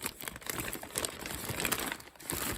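A heavy plastic zipper bag from a Temu haul of craft supplies crinkles and rustles continuously as it is handled up close, with a dense, papery crackle throughout and no talking.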